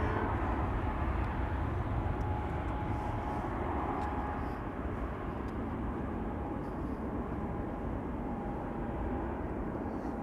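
An EasyJet airliner takes off from Amsterdam Schiphol on a cold day, a steady broad engine roar holding at a constant, fairly loud level from start to finish with no voices.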